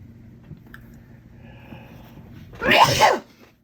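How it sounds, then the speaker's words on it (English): A single loud sneeze bursts out near the end after a few seconds of quiet, close to the listener. "Ooh, I feel a sneeze coming on."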